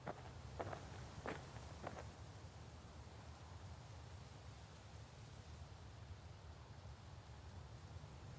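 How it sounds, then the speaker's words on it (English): A few footsteps crunch on gravel at the start, then fade out, leaving a faint, steady outdoor hiss for the rest of the stretch. "Some visitors have also described the sound of footsteps on gravel, approaching from behind,"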